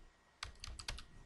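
Quick burst of typing on a computer keyboard, a handful of close, crisp key clicks in an uneven rhythm over about a second, alone with no talking.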